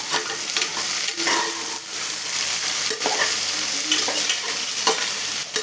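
Sliced onion and green chillies fry and crackle steadily in a pan of oil for a simple instant biryani, with occasional stirring scrapes and bursts of sizzle, close and continuous with no talk.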